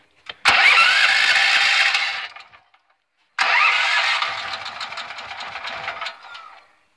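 An 8750 engine fueled by a TOG wood gasifier cranks and catches twice, each start a loud, buzzy rattling roar up close that holds for a couple of seconds before dying away.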